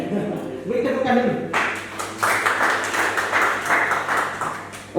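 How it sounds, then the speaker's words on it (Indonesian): Guests at a marriage registration ceremony break into scattered clapping after a voice speaks, the applause continuing moderately loud for a few seconds. "Beri tepukan dulu"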